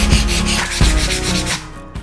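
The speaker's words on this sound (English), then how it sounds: "so we're just gonna sand it down" Sandpaper rubs briskly back and forth over a wooden board patched with wood putty, a close, loud, rhythmic scratching of several strokes with no voices.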